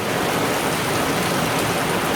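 Heavy thunderstorm rain pours steadily into an outdoor pool, a dense, even wash of close, loud rainfall with no breaks and no voices.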